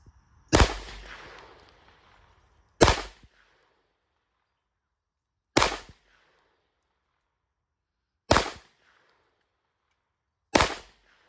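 Five sharp Smith & Wesson pistol shots ring out at a target, spaced a few seconds apart, each a loud crack with a short decaying tail, the first echoing longest.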